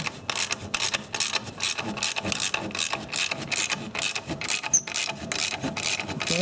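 A bolt on a Subaru engine being tightened down with basic hand tools during engine installation, heard as a steady run of close, scraping, rasping ratchet strokes in quick rhythm with no talking.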